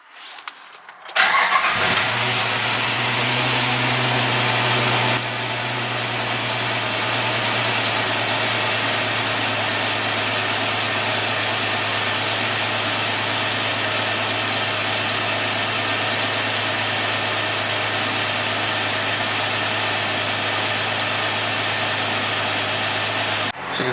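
A car engine with a cylinder 3 misfire cranks and catches, then idles steadily and loudly for about twenty seconds with a continuous rumbling hum and no voices.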